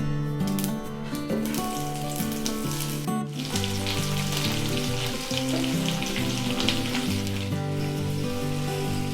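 Thinly sliced onions fry in a pan for a Tamil chapathi kurma side dish. A steady, soft sizzle runs throughout beneath prominent background music, and no one speaks.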